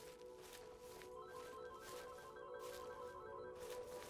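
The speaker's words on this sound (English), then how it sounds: "Sorry, my phone's ringing." A phone rings with a steady tonal ringtone that pulses in a regular repeating pattern, faint and continuous over low background noise.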